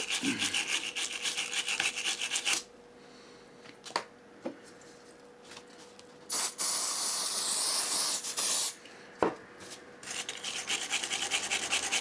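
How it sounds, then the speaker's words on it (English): A stiff brush scrubs a circuit board with a rasping hiss, alongside sustained bursts of aerosol spray. Close and steady, no talking. "Just give it a nice light scrub."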